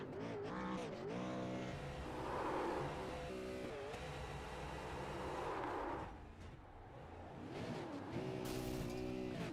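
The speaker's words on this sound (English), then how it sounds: "He's ready to enjoy his burnout." At Oxford Plains Speedway a race car does a celebratory burnout, its engine revving and falling in pitch repeatedly over a rough, noisy roar, heard from some distance.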